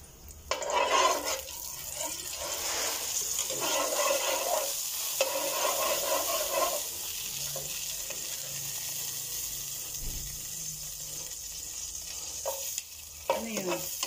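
Onion, tomato and chili sauté in a little oil for pork sinigang, a close sizzle with stirring scrapes that is strong at first and then settles into a softer hiss, with no talking.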